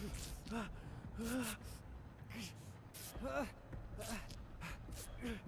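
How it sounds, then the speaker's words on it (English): Heavy, ragged panting and gasping from the injured survivor Dwight in Dead by Daylight, repeated strained breaths and groans in a steady rhythm, close and fairly loud over a low game ambience. "That like breathing he does."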